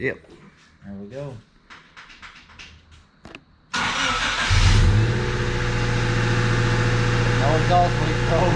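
Honda Civic coupe with a freshly installed exhaust cranking and firing up after a few seconds of people talking nearby, then settling into a loud, steady close-up idle with a deep exhaust drone and a brief rev.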